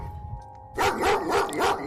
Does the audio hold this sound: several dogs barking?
yes